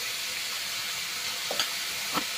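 Potatoes frying in hot oil for a river fish curry give a steady, close, even sizzle, with a couple of faint stirring knocks toward the end.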